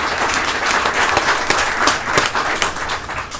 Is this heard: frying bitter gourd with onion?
no